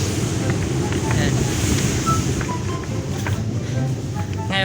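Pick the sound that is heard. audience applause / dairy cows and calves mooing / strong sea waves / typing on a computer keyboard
strong sea waves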